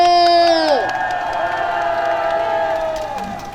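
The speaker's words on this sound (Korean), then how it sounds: "열변을 도와신 우리 지광선 목사님 다시 한번 박수 주세요" Crowd at an outdoor rally in the rain, cheering with shouts and whoops, loud and steady throughout, with sustained voices rising over a broad wash of noise.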